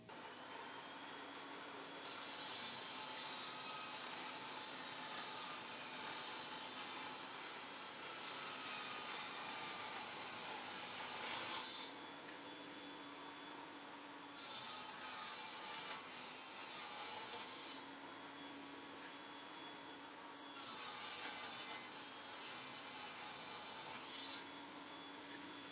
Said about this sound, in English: I'm gonna hoover everything out